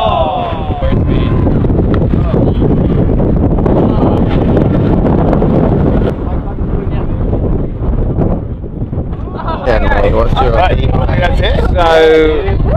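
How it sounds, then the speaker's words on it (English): A strong southwest wind blows across the beach, buffeting the microphone in a loud, continuous roar. Voices talk over it toward the end. "southwest wind has kicked in pretty early today"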